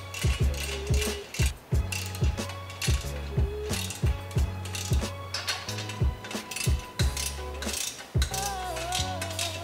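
A hand ratchet tightens bolts on a Subaru WRX, giving rapid clicking strokes in a steady rhythm with short metallic clinks between them, close by and with no talking.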